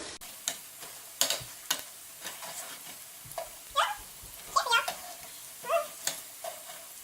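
Struffoli honey ball dough frying in hot oil while being stirred and flipped, with a steady soft sizzle broken by repeated clinks and scrapes of the utensil against the pot, close and clear.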